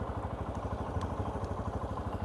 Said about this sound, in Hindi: आइडियल कंडीशन पर इंजन साउंड सुनिए